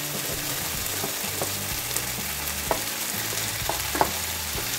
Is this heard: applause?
no